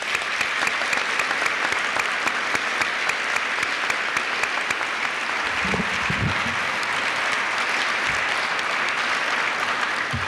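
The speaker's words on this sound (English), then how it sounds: "I think we owe them all a special round of applause." A crowd gives a long, sustained round of applause for Hall of Fame inductees at a 1996 NAHS ceremony, dense even clapping that fills about ten seconds without a break.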